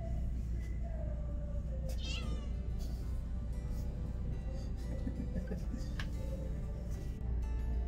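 Cats meow at a cat rescue shelter, several separate calls rising and falling over a steady background hum, with a few faint voices in the room.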